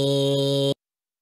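A single sustained synthetic vocal tone from a Friday Night Funkin' character's chromatic scale, steady and bright, held for under a second before cutting off abruptly into silence.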